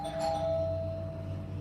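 A doorbell rings with a sustained electronic chime heard from inside a home, moderately loud and steady for over a second.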